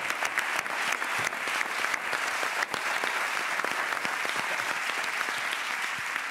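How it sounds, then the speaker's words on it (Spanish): A television studio audience claps steadily and loudly, a dense, continuous wash of applause with no talking. "un aplauso para esos chavales, joder, que están ahí"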